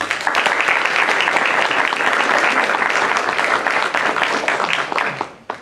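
A lecture audience claps steadily to welcome Dr. Hatem Bazian, a dense, loud wash of many hands that holds evenly for several seconds before tapering off abruptly at the end.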